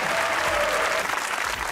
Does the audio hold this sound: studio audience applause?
yes